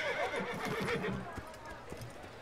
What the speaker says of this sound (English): you get on a horse